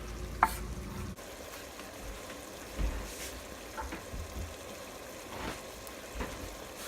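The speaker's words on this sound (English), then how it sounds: "Once the meat is almost done frying, I'm gonna add it in there." Meat for chili verde frying in a pan with a low, steady sizzle, broken by a few stirring scrapes and clinks, with no one talking.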